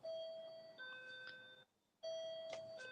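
A Japanese doorbell chimes twice indoors, each a clear electronic two-tone sequence of sustained tones, separated by a brief silence.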